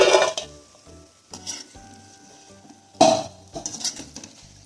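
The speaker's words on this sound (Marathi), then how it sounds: "याच पद्धतीने बाकीचे शंकरपाळे तळून घेऊया" Shankarpali, sweet Diwali biscuit snacks made from maida dough, frying in hot oil with a steady close sizzle, broken by a loud clatter of utensils and pans at the start and again midway.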